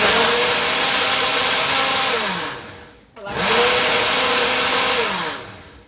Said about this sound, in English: turn your blender on,